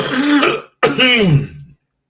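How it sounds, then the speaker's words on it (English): A person coughs and clears their throat close to the microphone in two loud, rough bursts separated by a brief gap, with no other sound around them. "That made me cough"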